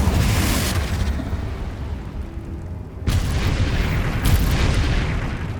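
Confringo spell blasts in Hogwarts Legacy: a loud burst rumbling for about a second, a quieter stretch, then a second booming explosion with a further surge of roar.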